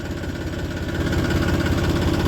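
A tractor engine running steadily in a field, about to pull a rotavator, gives a loud, continuous, even low rumble with a throbbing idle and no pauses.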